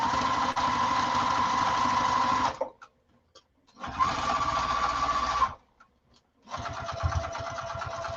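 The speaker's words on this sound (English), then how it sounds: "1/4 inch seam allowance to attach the other side. You will back stitch at the start and the stop." A sewing machine stitches a quarter-inch seam in three loud, steady bursts of rapid mechanical whirring, separated by short pauses with faint clicks between runs.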